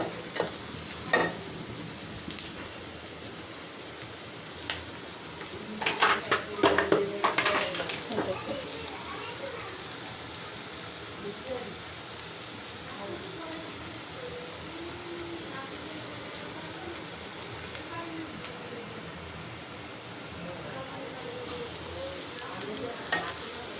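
Whole cloves sizzle and fry in hot oil for a rohu fish curry with kalonji, a steady soft crackle with brief bursts of stirring clatter, fairly quiet and heard alone.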